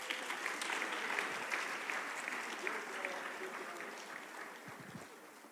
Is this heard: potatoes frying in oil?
no